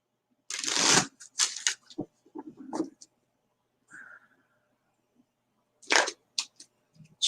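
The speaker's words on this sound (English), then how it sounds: "Shuffle them up good." Tarot cards are shuffled in several short bursts of papery riffling and flicking, close and fairly quiet, separated by stretches of near silence.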